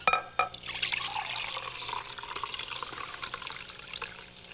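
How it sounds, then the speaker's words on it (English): Six cups of milk mixture pour steadily into a pan of flour for a Southern home-cooking recipe, a continuous close liquid splash and gurgle with no talk. "I'm going to use the rest of the milk by pouring in 6 cups of this milk mixture"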